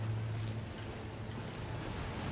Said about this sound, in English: Super windy and cold